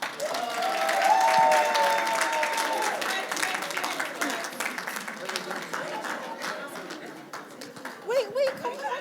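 Audience applause at an International Women's Day event, a dense, steady wash of clapping with some cheering mixed in, loud at first and gradually thinning, with voices calling out near the end.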